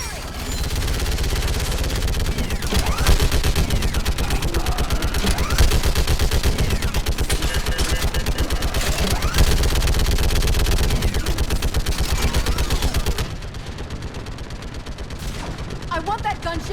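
Dense, continuous rapid gunfire from a Mass Effect 3 battle on Thessia, loud automatic bursts and volleys overlapping for most of the stretch before dropping away, with voices shouting underneath.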